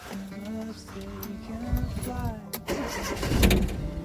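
The engine of a 1978 Datsun 810 coupe cranks and catches, settling into a rough idle, with people talking over it.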